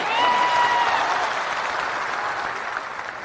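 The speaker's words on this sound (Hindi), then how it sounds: "एक बार जोरदार ताली से इनका स्वागत कीजिए।" A hall audience bursts into loud, dense clapping that holds steady for a few seconds, close and full, with a faint crowd murmur beneath.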